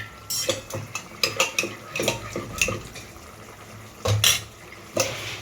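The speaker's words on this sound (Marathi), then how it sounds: "त्यामध्ये आपण आता टाकतोय डाळ." Dal going into a pot for drumstick dal in a home kitchen, with repeated clinks and scrapes of a metal spoon against the pot and soft stirring, close and clear with no talking.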